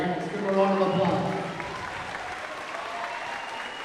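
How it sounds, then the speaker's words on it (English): A volleyball gym crowd applauds the match officials. The clapping swells to a full burst early, then thins out and carries on at a lower level for several seconds. "Let's give them a round of applause."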